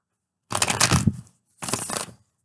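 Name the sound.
shuffling tarot cards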